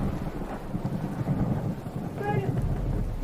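Rain and gusting wind fill a stormy outdoor scene with steady broadband noise and low rumble, moderately loud throughout; a voice briefly speaks over it near the end.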